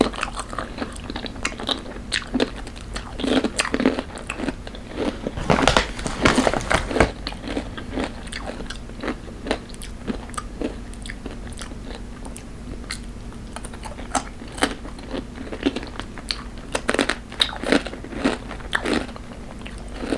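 Crunchy spicy Takis rolled tortilla chips are bitten and chewed close to the mic, with sharp crackling crunches in irregular bursts and a dense cluster of loud chewing midway through.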